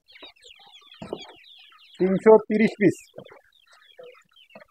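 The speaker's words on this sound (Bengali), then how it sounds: "বর্তমান মুরগির খামার করতেছি।" Seventy-day-old Sonali chickens on a poultry farm of about 330 birds give short, scattered clucks and chirps close by, with a few louder bursts in the middle while someone speaks briefly.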